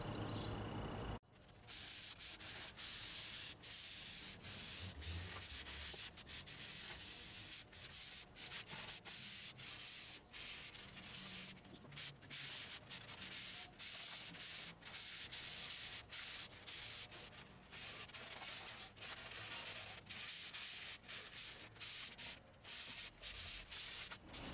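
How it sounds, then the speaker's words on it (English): A wooden shelving and storage unit is sanded by hand in a continuous, steady scratchy rubbing that runs through nearly the whole stretch, with short stroke breaks and no voices. "So I'm gonna go ahead and start the sanding now."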